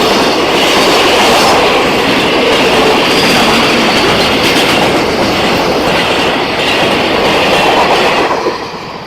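A freight train rumbles past loudly and close near Bang Phra Reservoir, Chonburi, wheels clattering on the rails in a continuous roar that fades slightly at the end.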